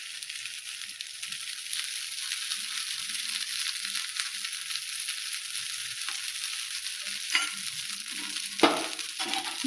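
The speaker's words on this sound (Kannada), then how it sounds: "ಈಗ ಎಣ್ಣೆ ಹಾಕ್ತೀನಿ ರೀ ಮ್ಯಾಗ." Oil sizzling and frying in a paddu pan, a steady close hiss running throughout with a few sharper crackles and spatters near the end.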